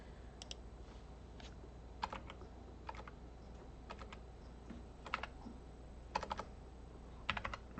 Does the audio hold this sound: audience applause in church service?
no